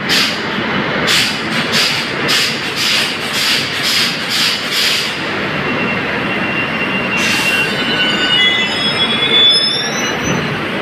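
The Saraighat Express rolls into a station platform, a loud steady rumble of wheels with a run of sharp rhythmic clacks over rail joints early on and a high metallic wheel squeal near the end.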